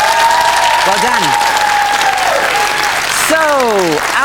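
Loud, steady studio audience applause for a quiz show contestant, with a host's voice talking over it and musical stings sweeping in partway through.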